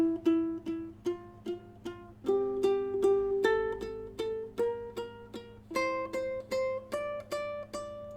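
A ukulele plays a scale in triplets, each pitch plucked three times in an even rhythm as the notes climb, soft and close with no talking.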